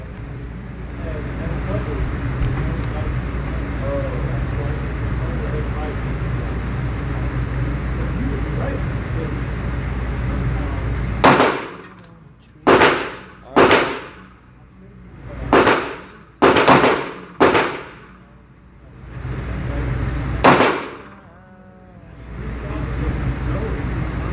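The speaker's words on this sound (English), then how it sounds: "Now we're going to shoot left hand, right eye." A Sig Sauer P229 pistol fires about seven sharp, loud shots at a range, spaced unevenly over roughly ten seconds. The shots come after a stretch of steady background noise, and each crack is followed by a short decay.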